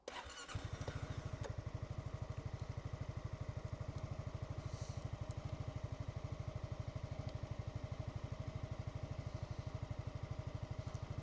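A 2024 Honda Forza 350 scooter starts with a short churn of the starter and catches quickly. It then settles into a steady, rapid, even idle thrum close by, with no voices over it.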